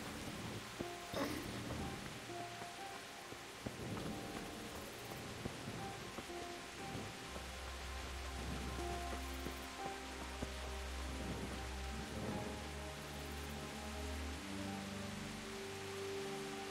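Rain in the medieval video game Kingdom Come: Deliverance, a faint steady hiss of falling rain with soft patter under quiet ambient game music and tones.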